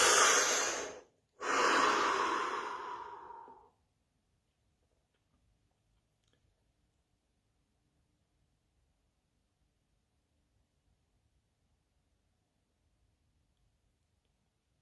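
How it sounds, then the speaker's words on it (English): Two deep breaths, a sharp inhale and then a long, slow exhale, loud and close. Near silence follows. "Deep breath."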